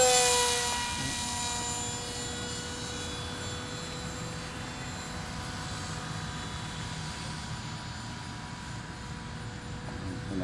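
A Foam Fighter Bird of Prey RC plane with a rear-mounted electric motor whines steadily in a thin high drone, louder at first and then holding at a fairly constant moderate level as it flies.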